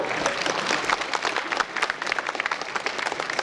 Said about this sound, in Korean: 많은 박수 부탁합니다